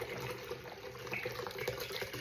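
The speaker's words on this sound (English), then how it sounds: "So I just add in the coconut water into there." Coconut water pours into a blender jug for a thick smoothie, a faint continuous trickling and splashing with nobody talking.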